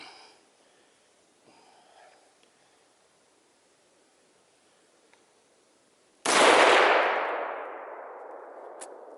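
One loud rifle shot fired at a CrossFit plate bursts out after a long stretch of quiet room tone, then rings down slowly over a few seconds, with a faint ping near the end; nobody talks.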